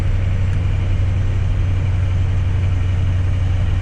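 7.3 IDI turbo diesel truck engine lugs uphill in fifth gear, a loud, steady, deep rumble heard from inside the cab, continuous and unbroken with no talking.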